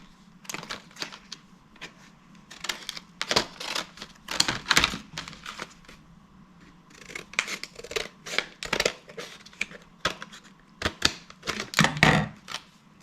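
Secondhand thrift-shop scissors snip repeatedly in quick bursts of crisp, close metallic clicks and cuts, pausing briefly between rounds, with no talking over them.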